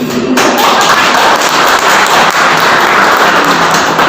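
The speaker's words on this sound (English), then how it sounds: "I want more claps for teachers." Loud, dense applause from a crowd fills the room continuously, many hands clapping at once with no pauses.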